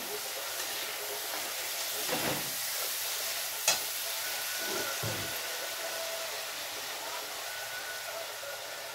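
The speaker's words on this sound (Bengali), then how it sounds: "মশলাটা প্রায় ভাজা হয়ে এলো" Spice paste frying in a pan while being scraped and gathered, a low steady sizzle with a few soft scraping strokes and one sharp clink, faint and continuous, no talking.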